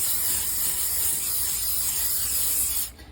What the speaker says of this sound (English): spray both sides with some cooking spray, some canola oil